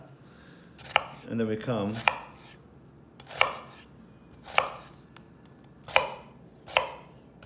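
A knife slices into an onion on a cutting board, with six sharp, close chopping knocks spaced about a second apart and a brief voice in between the cuts.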